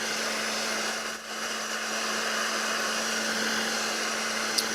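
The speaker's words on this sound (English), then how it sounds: "I have the heat gun on on hot, but I have the vents open, so it's just on a low setting" A heat gun set to hot with its vents open blows warm air across adhesive, giving a steady moderate whoosh with a fixed tonal hum, a brief dip early on, and no talking.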